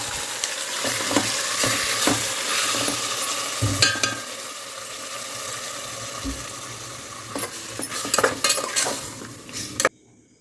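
Mutton for biryani fries in a pan with a steady sizzle, stirred with repeated scraping and clinking of a utensil against the metal. No voices are heard.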